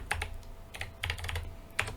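Fingers tap on a computer keyboard in short clustered bursts of keystrokes with brief pauses between, close and fairly quiet over a low steady hum, with no talking.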